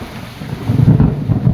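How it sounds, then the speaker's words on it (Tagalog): Loud thunder rumbles deep and heavy during a rainstorm, a rolling low boom swelling over about a second amid steady rain and wind noise, with no talk. "Ayun, ang lakas ng kulog oh."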